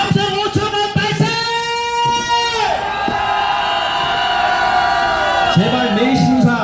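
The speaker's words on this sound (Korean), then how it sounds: "매일신문사 기죽지 말고 바르게 기사 쓰라고 함성 5초간 발사" Crowd at an outdoor patriotic flag rally roaring, shouting and whooping together in one loud sustained cheer, with voices and chanting tones rising and falling before it tapers off.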